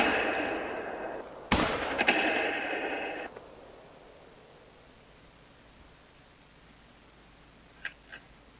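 A hunting rifle fired at a doe in theHunter: Call of the Wild, one sharp, loud crack cutting through a steady hiss, followed by a lingering rumble that fades into quiet and two faint distant ticks near the end.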